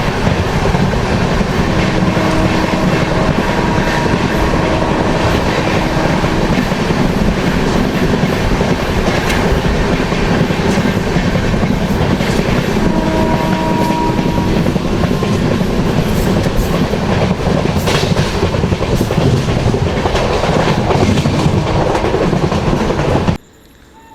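Duronto Express train running at speed on the Secunderabad to Visakhapatnam line, a steady loud rumble of wheels and carriage noise with rhythmic clickety-clack over rail joints, continuous throughout and cutting off abruptly at the end.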